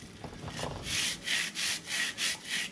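A bristle brush scrubs the chain of a Harley-Davidson Pan America motorcycle, close rhythmic back-and-forth rasping strokes, about five in a row after some lighter rubbing.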